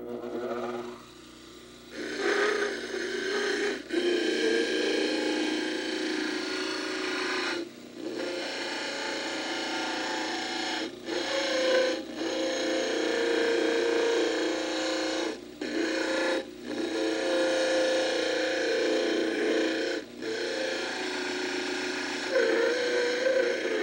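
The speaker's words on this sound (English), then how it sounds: "Now we can make again the final changes on the model trimmer." A dental model trimmer grinds an edentulous preliminary model with a steady abrasive whir, broken by brief pauses as the cast is repositioned against the wheel, fairly close and with no talking.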